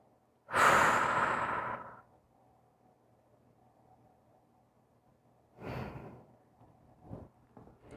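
Breathing during a beginner yoga flow: one long loud exhale near the start, then quieter breaths a few seconds later, close and soft over near-silence.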